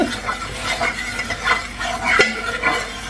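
A spoon works thick jackfruit varatti around a pan, giving close, uneven scraping strokes with light metal clinks and a faint sizzle underneath, and nobody talking over it.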